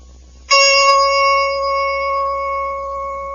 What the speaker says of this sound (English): Don't forget to turn the page every time you hear the chime.